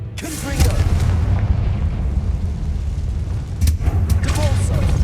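Confringo fire spell explosions in Hogwarts Legacy: a deep boom bursts out early, then another blast follows a few seconds later, both over a steady low rumbling game ambience.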